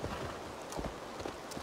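Horse hooves thud unevenly over steep, rough terrain in Assassin's Creed Valhalla, a few soft, close footfalls in a short stretch against game background noise.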